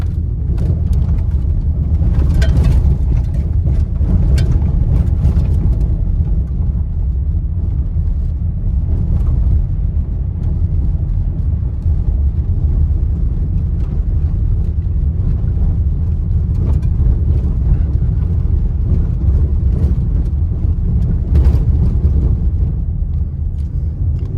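A 2023 Dodge Charger SXT rolls over rocks and gravel, heard from inside as a steady, loud low road rumble with occasional faint crunches and knocks, no talking.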